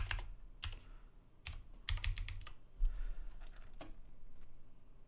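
Bursts of computer keyboard typing during a Westeros: Total War strategy session: uneven clusters of crisp key clicks, near and moderately loud, scattered across a few seconds with short pauses between flurries.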